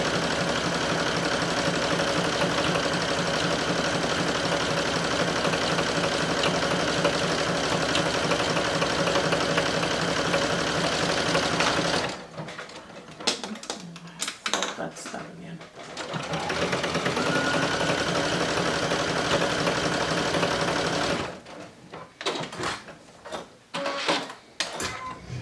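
A sewing machine stitches along a cardigan edge with a tight eighth-inch seam allowance, running in two long, steady whirring bursts, each followed by a quieter pause with shorter stitching bursts, loud and close.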